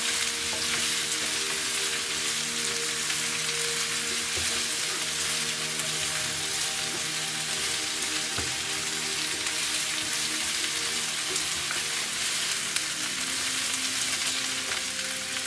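Cauliflower florets stir-fry in a hot pan on a fully lit stove, producing a loud, continuous close sizzle with occasional scraping stirs and no voices.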